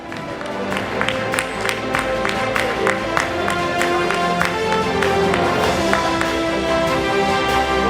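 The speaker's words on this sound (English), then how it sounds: "All of you keep clapping" Audience applause at a women entrepreneurs' awards ceremony, a steady wash of many hands clapping that runs the whole time at a fairly even level, with musical tones sounding underneath.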